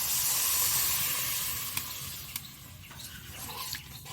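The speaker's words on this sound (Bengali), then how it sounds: "এবার আমি জলটা দিয়ে দেব।" Water hits a hot pan of rohu fish kalia with cashew paste, a loud hissing steam burst that gradually settles into softer sizzling and bubbling with a few sharp clinks.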